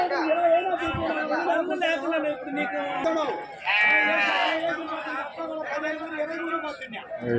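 At a sheep market in Gudur, sheep and lambs bleat repeatedly amid a crowd of people talking, with a louder, wavering bleat standing out near the middle.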